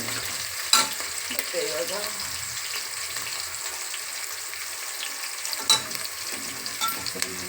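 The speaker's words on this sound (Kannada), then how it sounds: "ಗೀ ರೈಸ್ಗೆ ಒಗ್ಗರಣೆ ಕೊಟ್ಕೋತಾ ಇದ್ದೀವಿ." Spices tempering in hot ghee in a pan for ghee rice, an even crackling sizzle running throughout with a few sharp pops, while a voice speaks briefly.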